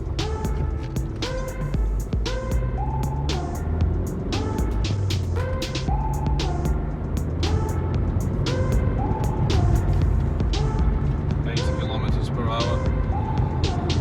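An Alfa Romeo Giulietta 1.6 JTDM diesel accelerates on the road after a turbo hose replacement, its engine humming and throbbing steadily under cabin noise with rising and shifting tones as it gathers speed, heard from inside.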